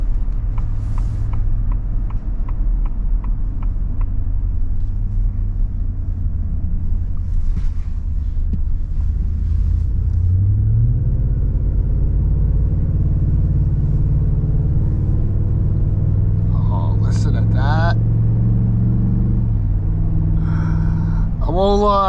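A 2023 Ford F250 Super Duty pickup with the 7.3-litre engine accelerates onto a highway, a steady loud low rumble rising in pitch as it gains speed, with road and wind noise and occasional talk.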